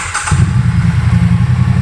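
A Triumph Bonneville Street Twin 900cc motorcycle cranks and catches after a brief starter whirr, then settles into a steady, loud, close twin-cylinder idle with no talk over it.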